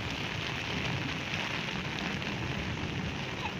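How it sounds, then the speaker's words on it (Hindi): Heavy storm rain in Dadyal, Azad Kashmir pours steadily and loudly, a dense continuous hiss of drops hammering a surface with no letup. "बारिश काफ़ी ज़्यादा लगी हुई"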